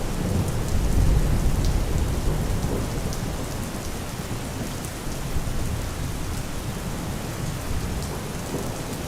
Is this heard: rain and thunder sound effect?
yes